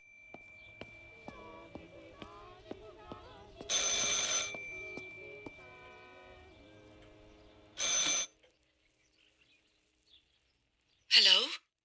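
An old telephone rings in the video game Martha Is Dead, with loud bursts of ringing separated by pauses over a quiet background of ambient game sounds and faint tones.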